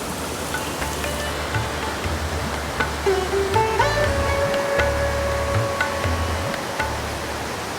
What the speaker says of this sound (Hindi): अब तो यहाँ ब्लॉग बनाते हुए खूब पानी का शोर होता है